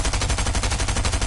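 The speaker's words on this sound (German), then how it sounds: "ich höre schon wieder Schüsse" Rapid automatic gunfire in Fortnite, a loud, evenly spaced stream of about a dozen shots in quick succession with no talking.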